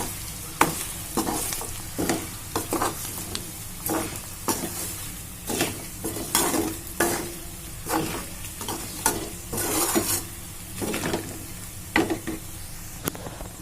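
Spicy chicken fry stirred in a pan, with repeated spatula scrapes and stirring strokes over a continuous close sizzle, in irregular bursts throughout.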